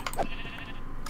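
A Minecraft sheep gives a single short bleat, clear and close, with no talk over it.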